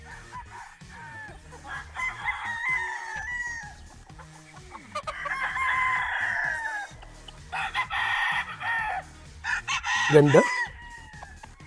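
Several sweater gamefowl roosters crow in turn, each call a few seconds long and fairly close, with soft talk between them and a short clucking burst near the end.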